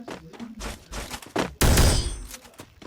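Gunfire in the video game Free Fire with the G-Crystal gun: a sudden loud, dense burst of shots cuts in partway through, following quieter thuds, then tails off.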